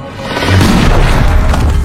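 A single loud, booming gunshot in a film as a woman shoots herself, a heavy low thud followed by a sustained rumbling tail with no voices.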